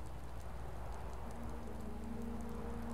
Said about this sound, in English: At least the rain provides some cover.